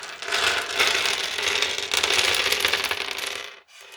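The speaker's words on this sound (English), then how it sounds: "the famous drop, and we have this collection of dice" A collection of dice tumbles out of a suede dice bag in one long, dense clattering cascade that rattles steadily for about three and a half seconds, close and loud, then stops abruptly.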